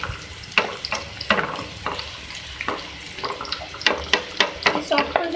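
Onions fry in a pan with a soft, constant sizzle, broken by a series of sharp scraping stirs at an uneven rhythm, close by.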